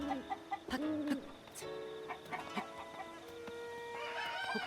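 Chickens cluck repeatedly in Zelda Breath of the Wild, their in-game clucks sounding close and clear over a steady ambient bed, with brighter chirping bird sounds rising toward the end.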